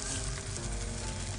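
Leeks and bonito flakes stir-fried together in a pan, a loud steady sizzle with a dense, even crackle throughout, no talking.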